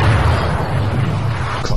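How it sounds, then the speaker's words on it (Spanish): A dull, heavy explosion rumbling in a Capitán Tremañes episode, a broad low boom that sustains and rolls for about two seconds with a small thump at the end. "que habrá sido esa jodida explosión"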